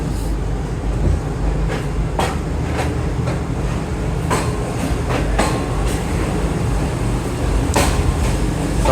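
Greenline Express passenger train heading to Islamabad rolls steadily along the rails, a continuous loud rumble inside the carriage punctuated by several sharp clicks of wheels over rail joints, with no talking.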